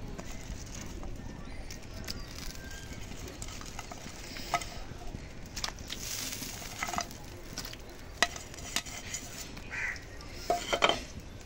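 Fried tengra fish added to a simmering potato curry, giving a soft bubbling and sizzle under scattered clinks of a spoon against the pot, close but fairly quiet.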